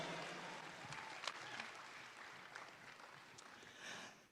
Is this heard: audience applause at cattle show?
yes